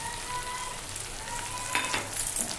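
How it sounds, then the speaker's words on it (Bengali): Spinach stems fry in fish oil in a pan, giving a steady, soft, close sizzle with faint crackles near the end. "একটু শাকটা ভাজা ভাজা হয়ে গেছে"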